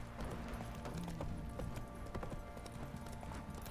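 Roach, a horse in The Witcher 3 video game, gallops along with a steady run of hoof clops. The hooves sound fairly close and dense, blended with background game ambience.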